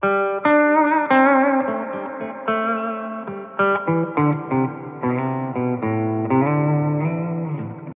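Sustained electric guitar chords through a Line 6 Catalyst 60W combo amp's plate reverb ring out with a wide, shimmering reverb tail, each strum blooming and lingering into the next.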